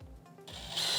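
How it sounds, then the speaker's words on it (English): A power drill spins up briefly while installing pieces of a box kit, a short close whir rising sharply in the final half second after faint handling noise. "Then you take your drill"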